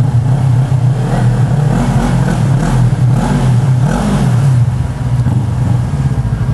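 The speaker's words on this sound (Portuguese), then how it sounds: "Nossa, o ronco fica muito tenso aqui." Close, loud revving from a Yamaha MT-03 motorcycle in a supermarket parking lot, the engine note surging up and down several times in quick succession.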